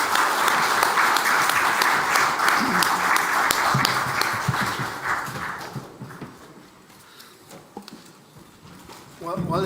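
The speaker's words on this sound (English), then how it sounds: "give a big applause to the effort of our customers" Audience applause for a panel at the REDD+ Warsaw Framework anniversary event, dense clapping that fades after several seconds into a quieter room where voices are heard, with a fresh burst at the end.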